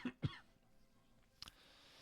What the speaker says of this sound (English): As always, apologies about the cough.